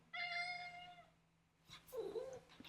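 A house cat gives one clear, drawn-out meow up close, followed by a shorter, rougher meow and some faint rustling, all quiet and without talk.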